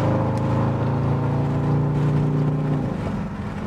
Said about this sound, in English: Yeah, this Durango sounds so good.